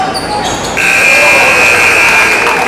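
A game buzzer sounds at the end of a half in a high school basketball session on an indoor court in Plymouth, a loud, sustained electronic tone over gym ambience and crowd noise.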